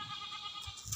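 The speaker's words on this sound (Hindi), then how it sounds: "अरे भैया, ये तो है बकरी हमका पसंद ही है।" A goat bleats once in a short, nasal, wavering cry, close and fairly loud, with no talk over it.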